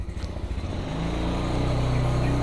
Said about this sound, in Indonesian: Nggak usah lama-lama manasin motor.